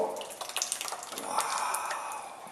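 Hot pasta cooking water from a pot of orecchiette pours out into a sink, a close splashing gush with scattered drips and spatters that swells midway, with no talking.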